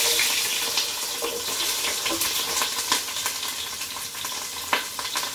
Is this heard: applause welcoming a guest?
no